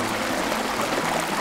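Steady rushing water from the cascading falls along Spicewood Springs Trail in Colorado Bend State Park, Texas, a continuous loud broadband wash with no voices.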